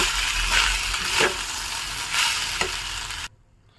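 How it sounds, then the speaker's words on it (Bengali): Fried rice is stirred in a pan with added sugar and milk after the gas is switched off, giving soft scraping strokes over a fading sizzle that cut out abruptly near the end. "এবার এগুলো ভালো করে মিশিয়ে নেব"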